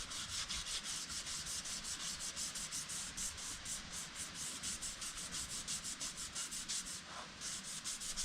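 Power sander working continuously through a final sanding pass, a steady loud buzzing grind with rapid regular pulsing, close by and alone without talk.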